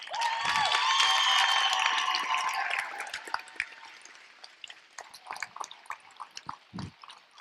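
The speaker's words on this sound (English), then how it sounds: "I want to give a round of applause to all of the kids here who put in all of this effort" An audience at a robotics qualifier closing ceremony applauds the kids, beginning with a loud wash of clapping and cheering that thins into sparse, scattered individual claps as it dies away, with no talking.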